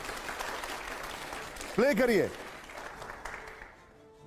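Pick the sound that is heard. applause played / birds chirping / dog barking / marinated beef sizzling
applause played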